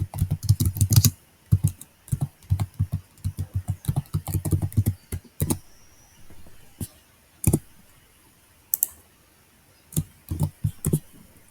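Computer keyboard typing in Excel comes in quick bursts of close clicking, then slows to scattered single key taps separated by pauses.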